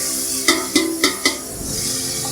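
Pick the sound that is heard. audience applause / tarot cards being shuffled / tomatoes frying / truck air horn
tomatoes frying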